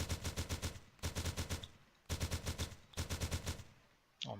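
Weapon fire in a Unity 5 survival game sounds as rapid automatic bursts of hits, four loud volleys of evenly spaced shots separated by short pauses, then a sharp click at the end.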